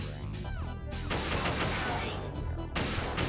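Rifle fire from a PSG1 sniper rifle in Metal Gear Solid 2, with dense, overlapping shots and impacts crackling steadily throughout, loud and close over busy game noise.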